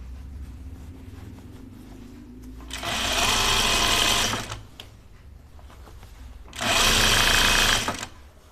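A home sewing machine mounted in a table stitches pajama bottoms in two steady whirring bursts of about two seconds each, loud and close, separated by quiet room tone.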